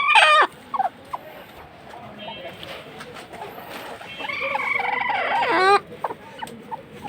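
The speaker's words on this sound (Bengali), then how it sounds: "কুচ্চা মুরগি।" Broody hen clucking close by in a farm coop, its harsh, agitated calls coming in two loud bursts, one at the start and a longer one near the end, with quieter chicken sounds and scattered noise between.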